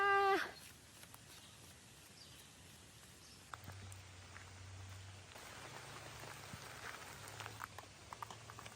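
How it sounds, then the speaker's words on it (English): Steady, faint rainfall patters on surfaces around a campsite with a small camper trailer, a soft continuous hiss with scattered drops, and a low hum coming in partway through. "Hopefully the rain stops"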